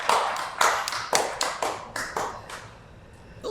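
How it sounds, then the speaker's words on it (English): Roughly eight sharp hand claps ring out one at a time, quite close and alone, the gaps widening as they slow down and then stop. "Who was clapping like that?"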